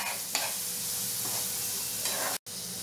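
Garlic sautéing in a pan for a green vegetable pulao gives a steady close sizzle, with a few scrapes and stirs cutting through the frying hiss.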